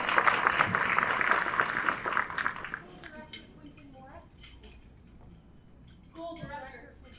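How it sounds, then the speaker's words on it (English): Audience applause at a charity luncheon, a broad wash of clapping for the first three seconds that fades out, leaving a murmuring room with clinking dishes and cutlery and scattered voices. "Give your own round of applause now"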